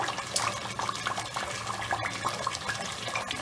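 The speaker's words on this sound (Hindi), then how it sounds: "अब हमने अपनी यखनी और गोश्त, हड्डी जो भी था हम सब इसमें डाल देंगे।" Broth, beef meat and bones poured into a cooking pot over fried masala for a bone curry, giving a steady close splashing and liquid rush with faint clatters throughout, no talk.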